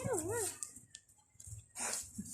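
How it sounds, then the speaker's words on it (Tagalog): A dog gives a short whimpering, wavering whine at the start, with a voice and other voices in the background and quieter shuffling noises afterwards. "Ito yung aso na masungit."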